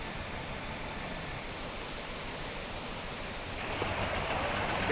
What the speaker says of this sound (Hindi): देहरादून में भी बरसाती नाले अब सड़कों पर उतर आए हैं।